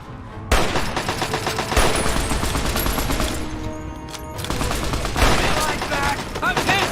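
Gunfire rattles in the video game Fallout 3 as sustained bursts of rapid automatic shots. The shooting is loud and continuous, with brief lulls, over a dense background of game noise.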